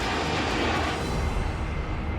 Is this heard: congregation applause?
no